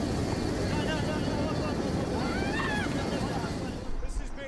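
A helicopter hovers low during a chaotic aid drop, packages thrown out as people crowd below; its rotor and engine make a loud, steady roar mixed with crowd noise.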